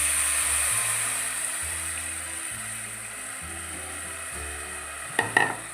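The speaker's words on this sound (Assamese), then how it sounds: "এয়া পানীখিনি দি দিছোঁ।" Steady hissing sizzle from a pot of rice frying for pulao as water is poured in, continuing evenly with a couple of brief louder splashes near the end, set against a low, steady background.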